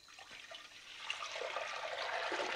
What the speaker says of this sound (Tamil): நான் ஒரு பாத்திரம் எடுத்துகிட்டு தண்ணி ஊற்றிக்கலாம்